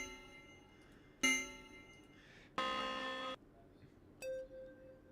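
Candidate bell sound effects for a game jam ring out one after another: three separate bright metallic tones, each a sharp strike with a sustained ringing tail, the middle one longest and loudest, over a quiet background.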